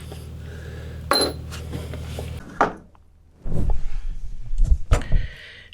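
A metal nut drops into a pot during narrowboat maintenance work, giving a sharp metallic clink with brief ringing, then a few more clanks and rattles of metal against metal nearby.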